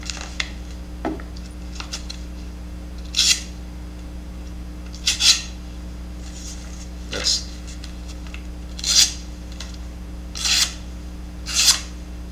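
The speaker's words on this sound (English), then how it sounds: "I can do a cutting demonstration for you. This is a sharp knife." A SOG Mini Vulcan knife cuts through material in short, dry rasping strokes, roughly seven separate cuts spaced a second or two apart, close and fairly crisp, alone with no talk.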